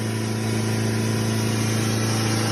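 A car engine held at a steady idle by an idle-up box, its rpm refusing to climb while the accelerator is pressed, a constant, even hum with no revving.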